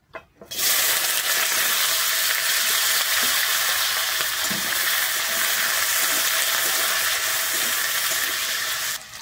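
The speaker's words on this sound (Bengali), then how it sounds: "আমি প্রথমে কিন্তু আলুটা কেটে নিয়েছি, আলুটা ভেজে নেব।" Cut potatoes drop into hot mustard oil in a wok and fry with a loud, steady sizzle and hiss that starts abruptly and carries on evenly up close, with no voices.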